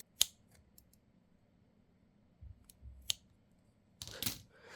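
A few sharp snips from scissors trimming a cheap Daiso vertical laptop stand, quiet and close, with short isolated cuts separated by near-silence and a slightly longer crunchy cut at the end.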